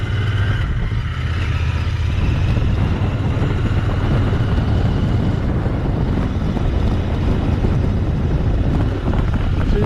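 A Royal Enfield Interceptor 650 motorcycle cruises at low RPM, around 2000, giving a steady low engine thrum mixed with heavy wind rush, continuous and fairly loud with no talk.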